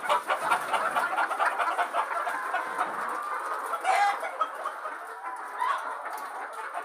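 Hens cluck repeatedly in a poultry egg farm shed, a busy, overlapping chorus of short clucks and calls at close range, with a few louder squawks standing out.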